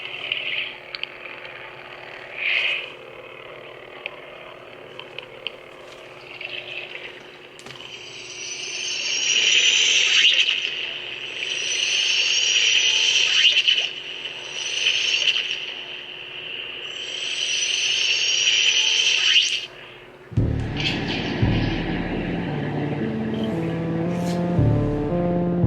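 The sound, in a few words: lightsaber sound font Aqua Force, underwater style, Jedi Arms Dealer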